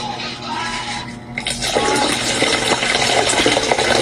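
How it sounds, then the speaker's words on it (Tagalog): Water poured into a young coconut while making buko salad, a close, continuous splashing pour that grows louder and fuller as it goes, with no talk over it. "Tapos, luan natin ng water."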